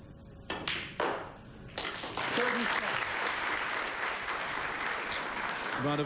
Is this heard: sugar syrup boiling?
no